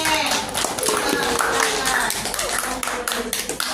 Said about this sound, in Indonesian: Kasih aplaus untuk kelompok C